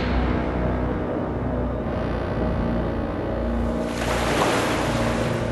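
Steady roar of ocean waves and surf with wind buffeting, swelling into a louder wash of water toward the end.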